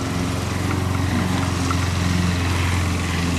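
A lawn mower engine drones steadily and continuously at a moderate distance, with no voices over the hum.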